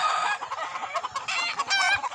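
A chicken on a rural path clucks in quick, uneven bursts, fairly close and moderately loud, with a few sharper squawks near the end.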